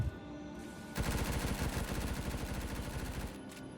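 Rapid automatic MP5 gunfire from a video game while aiming down sights, a loud sustained burst of evenly spaced shots lasting a few seconds after a brief quiet start, then cutting off.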